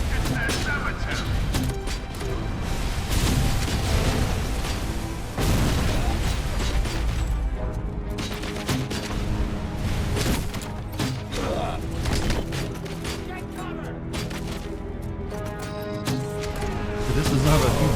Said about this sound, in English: This does not have a huge radius to an explosion.